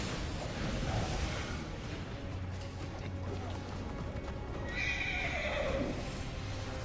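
A horse in Assassin's Creed Origins whinnies with its hooves clip-clopping, set against ambient game sound, and a second whinny rises near the end.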